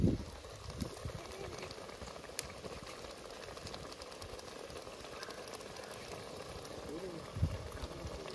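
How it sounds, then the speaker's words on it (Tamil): Ghee poured into bread halwa cooking in a pan for a traditional village recipe, giving a steady bubbling sizzle that runs throughout, with a brief louder spatter near the end. "இப்போ நெய் ஊற்ற போகிறோம்"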